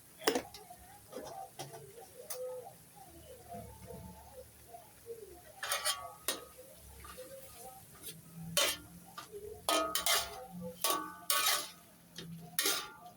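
Bamboo shoots with pork are stir-fried in a pan, heard as irregular metallic clicks and scrapes of a utensil against the pan, close and moderately loud, growing busier toward the end over a low background hum.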